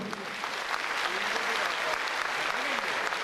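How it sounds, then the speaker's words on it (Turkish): A hall audience at an iftar gathering of people from Sivas in Kağıthane breaks into strong applause: thick, sustained clapping that fills the room at a steady, moderate level, with a few voices faintly mixed in. "sizden kuvvetli bir alkış istiyorum"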